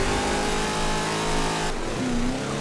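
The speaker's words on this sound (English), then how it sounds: "A lot of wheel spin at the start." A 1990 Chevrolet Camaro IROC-Z in Forza Horizon 4 revs hard with wheel spin off the race start, its loud, steady engine roar rising and then dropping to a lower pitch partway through.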